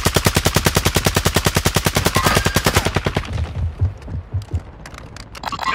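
Loud, rapid automatic gunfire in the Warzone video game, a long dense burst of evenly spaced shots that stops partway through, followed by scattered softer thumps and distant bangs.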